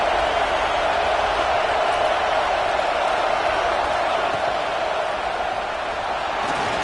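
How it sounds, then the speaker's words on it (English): Stadium crowd at a football game roaring continuously, a dense, loud, steady wash of massed voices with no breaks. "This crowd, full throat, splitting the eardrums"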